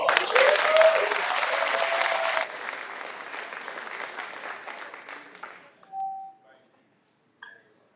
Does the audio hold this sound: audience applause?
yes